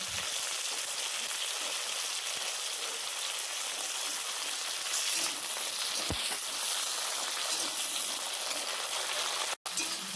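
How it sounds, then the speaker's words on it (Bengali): Chopped onion and tomato fry in ghee with a steady, even hiss that runs close and unbroken throughout, broken only by an occasional faint knock. "দুটো পেঁয়াজ কুচি আর একটা টমেটো কুচি দিয়ে ভালো করে কিছুক্ষণ ভেজে নিতে হবে"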